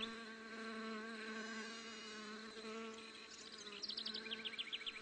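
Asian hornets hovering near a beehive produce a steady, close, droning buzz of wings that continues throughout, with a faster, fluttering pulsing buzz toward the end.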